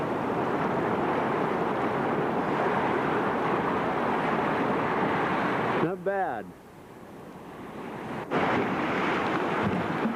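White water rapids on a river send out a broad, steady rushing roar, with wind buffeting the microphone. The roar dips briefly midway, and someone speaks a couple of words over it.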